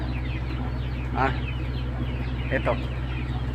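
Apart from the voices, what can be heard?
chickens clucking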